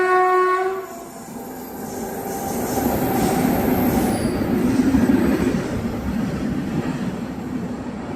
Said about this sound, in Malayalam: Train number 16306 Thiruvananthapuram north Mysore junction express ആണ് പോയിക്കൊണ്ടിരിക്കുന്നത്.